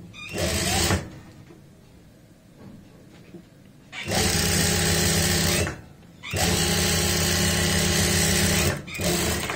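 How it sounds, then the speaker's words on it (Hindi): A sewing machine stitches a tucked blouse in bursts, three loud whirring runs of rapid needle strokes separated by pauses with quieter handling of cloth. "ऐसे ऊपर से सिलाई लगा लेंगे"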